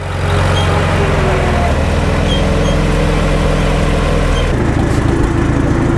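An IH Super W-4 or Super M tractor engine, recently fitted with a repaired carburetor, runs loud and close with a steady, even throb that never misses, shifting slightly in tone near the end.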